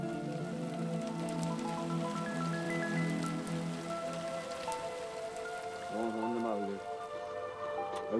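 Steady rain patters on a surface throughout, with a sustained tonal melody layered over the constant hiss.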